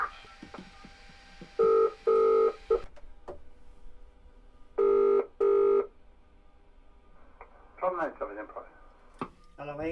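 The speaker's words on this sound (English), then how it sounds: "Another nifty feature we have here is the radio, which has a self-test sequence." Train cab radio self-test sequence in a Class 150 in Train Simulator 2015: paired electronic tone bursts sound twice, separated by clicks and a soft hum, followed by warbling synthesized tones, and a voice talks over it.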